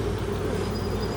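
A honey bee swarm high in a tree makes a steady, dense, close buzzing drone that holds throughout without a break.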